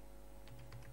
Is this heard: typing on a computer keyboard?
yes